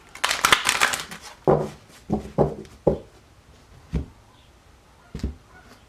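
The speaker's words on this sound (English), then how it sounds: "One more shuffle." Tarot cards are shuffled close by: a rapid riffle at the start, then several separate crisp slaps and shuffles spaced apart.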